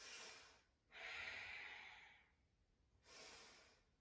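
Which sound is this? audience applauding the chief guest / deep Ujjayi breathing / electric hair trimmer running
deep Ujjayi breathing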